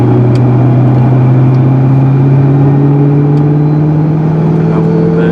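A Ford GT engine runs loud and steady throughout, its pitch climbing slowly as revs rise, with a prominent mechanical whine layered over the deep exhaust drone.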